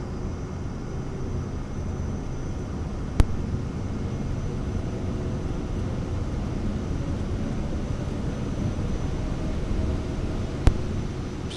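An airplane in a flight simulator game holds a steady, even engine drone during takeoff, with a broad uniform rumble and two brief sharp clicks, no clear rise in pitch, constant and moderately quiet.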